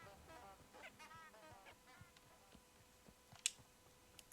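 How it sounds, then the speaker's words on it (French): Turkeys in the video game Hogwarts Legacy make faint, scattered gobbling calls against a quiet game background, with no talking. "c'est vrai qu'il y a des dindons, par contre"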